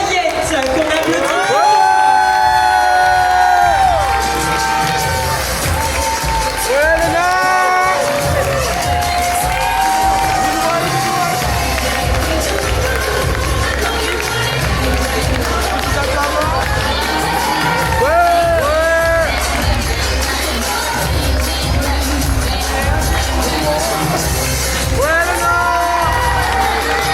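A crowd at a pageant in Saint-Pierre cheers candidate number nine, with a continuous roar of voices, high whoops and shouts rising and falling across nearly half a minute, and clapping mixed into the din.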